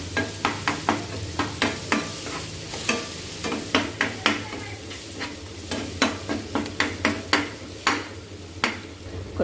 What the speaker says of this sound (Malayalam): ഉള്ളി നന്നായിട്ടൊന്ന് മൂക്കട്ടെ.